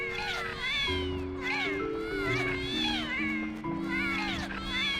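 Cat Sith creatures from the Final Fantasy XI online game meowing repeatedly, overlapping high wailing mews in rising and falling bursts over a steady in-game musical drone, close and prominent throughout.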